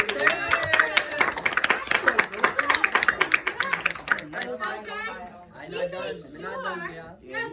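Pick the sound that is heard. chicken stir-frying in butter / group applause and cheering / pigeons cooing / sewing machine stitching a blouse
group applause and cheering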